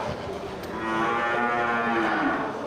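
Water buffalo at a buffalo market giving a single long, loud, drawn-out moo close by, with no talk over it.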